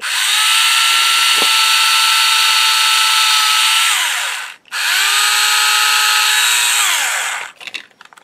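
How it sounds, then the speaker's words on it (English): A power drill bores into a wooden leg in a loud, steady whine. It winds down briefly, restarts, then spins down with a few rattles at the end. "And kind of just take our drill bit and see how far in we are"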